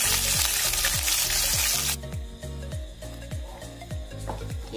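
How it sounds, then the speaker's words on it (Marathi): Masala fries in three to four tablespoons of oil in a pan with a loud sizzling hiss that drops to a softer simmer, while a spoon scrapes the pan in regular, repeated stirring strokes. "या प्रकारे आपण हा मसाला साधारण 5 मिनिटं शिजवून घेणार आहोत"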